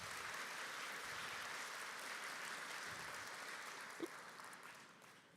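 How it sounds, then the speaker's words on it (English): Audience applause at a tech conference session following a software demo, a steady wash of clapping from a crowd that holds for several seconds and then slowly fades, fairly faint and heard from a distance. "How about a round of applause for that demo?"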